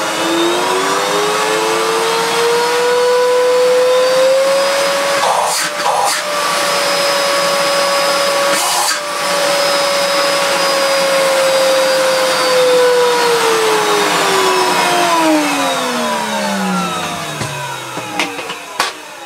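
A refurbished Miele S2111 vacuum cleaner with a 1600 watt motor, fresh bearings and a washed fan, runs loud and steady with a smooth whine, then spins down near the end.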